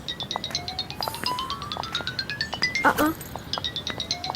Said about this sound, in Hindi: इस वक्त किसकी कॉल आ रही है सुबह सुबह?